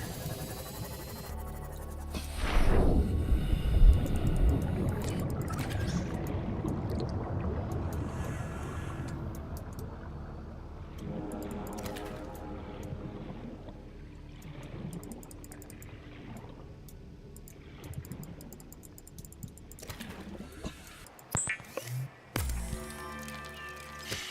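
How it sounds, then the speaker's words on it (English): The Seamoth submarine in Subnautica glides underwater, a muffled whooshing and bubbling movement with a louder surge early on, settling into a soft watery drone with occasional mechanical clicks near the end. "I'm gonna have to take the sea moth out and head back into the safe shallows"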